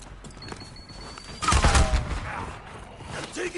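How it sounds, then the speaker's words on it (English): A short burst of gunfire in Call of Duty Warzone, set in Verdansk, breaks out midway and sounds loud and close. It is followed by scattered quieter game effects. "Taking fire!"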